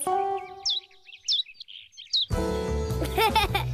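Cartoon birds chirp in quick bright tweets in a Nick Jr. morning cartoon, first alone and then over cheerful music, with a burst of busier chirping toward the end.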